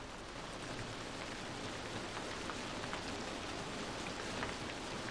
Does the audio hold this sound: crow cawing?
no